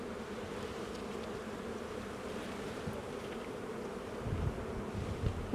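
A steady, dense buzz of many honeybees at a hive, continuous and fairly close, with a few soft thumps near the end.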